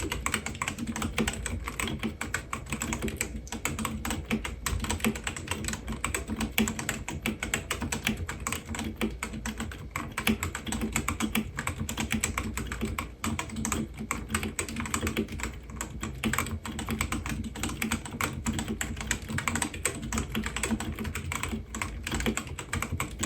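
Redragon K530 Pro Draconic mechanical keyboard being typed on continuously, a dense, fairly loud clatter of rapid keystrokes with a slight metallic ping, close up and with no talk.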